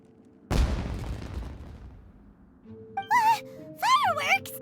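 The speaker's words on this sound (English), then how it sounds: "It sounded like fireworks." Fireworks going off in the Genshin Impact video game, a single sudden loud burst that rumbles and fades over a couple of seconds, followed by tonal chirps and voice-like sounds.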